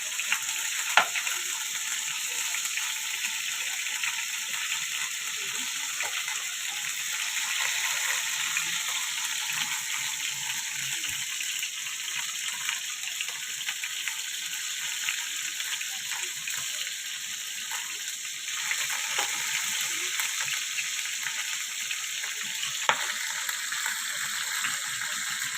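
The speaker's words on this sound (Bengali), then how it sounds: "আমি পেঁয়াজ ভেজে নিলাম।" Onions frying in a pan, a loud, steady hiss and crackle of hot oil that holds constant throughout, close up with occasional faint clicks and no talk.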